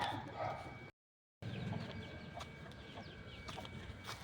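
A grey hen clucks as she is let out of her coop in a farmyard, faint, scattered clucks over a busy outdoor background with other fowl and a dog nearby.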